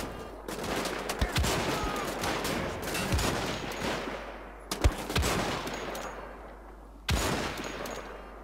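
Bursts of gunfire in Wolfenstein: The Old Blood, loud sharp shots and rattling volleys over a continuous dense battle noise, with several distinct blasts spaced a few seconds apart.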